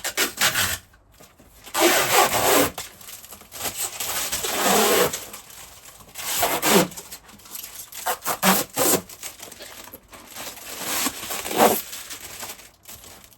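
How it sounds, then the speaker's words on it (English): Protective backing film is peeled off a Hormann garage door window panel, making loud crackling, rasping tears in several long pulls separated by brief pauses, close up and with no talking. "So there's a backing on each side to peel off."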